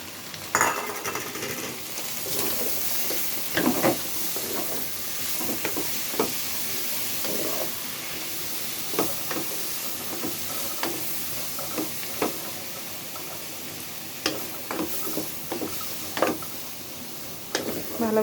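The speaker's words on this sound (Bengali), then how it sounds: "ভালোভাবে মিশিয়ে নিলাম শাকটার সাথে ডিমটা" Greens and egg fry in a pan with a soft continuous sizzle while a utensil stirs, clinking and scraping against the pan in irregular bursts throughout, with no talking.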